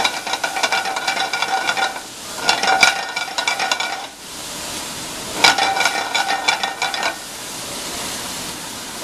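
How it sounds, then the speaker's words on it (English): Onions caramelize in oil in a pan, giving a bright, steady sizzle broken by stretches of scraping and stirring, close and fairly loud with no voices. "caramelizing our onion. And most of the oil burns off,"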